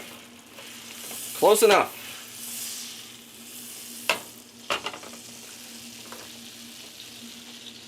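Butter melts with a soft, steady sizzle in a pan while cooking shrimp and spinach pasta, faint and continuous, broken by a few clinks and scrapes and brief spoken words.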